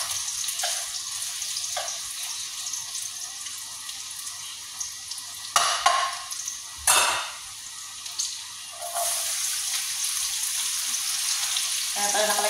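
Garlic and onion sizzle steadily in a hot pan while lunch is cooked, with a few brief louder clatters of utensils and stirring midway through.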